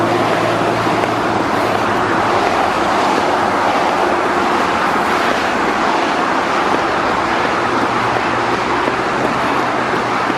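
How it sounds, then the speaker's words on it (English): Steady rush hour road traffic roars on throughout, a loud, continuous broadband wash of passing cars with no pauses and no voices over it. "That's rush hour traffic."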